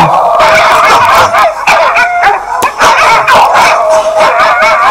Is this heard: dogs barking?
yes